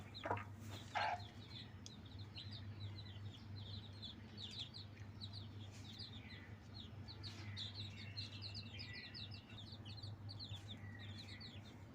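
A brood of young chicken chicks peep and chirp continuously while drinking water, many high, thin calls overlapping throughout. They sound faint against a steady low electrical hum.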